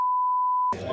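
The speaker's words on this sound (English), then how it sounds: "I thought you were beeping out the fact that" A steady censor bleep tone sounds alone for most of a second, then cuts straight into a burst of talking, as if masking a spoken word.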